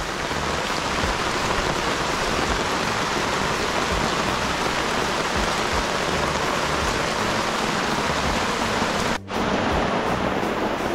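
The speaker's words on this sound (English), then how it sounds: "Rain out there." Steady, dense rainfall hissing on surfaces, continuous and fairly loud, with a brief dropout near the end.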